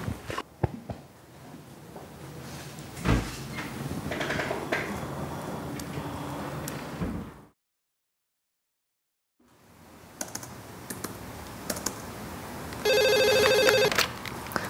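A telephone rings in an office after close keyboard typing and handling noises and a short silence, its electronic trilling tone repeating loudly near the end.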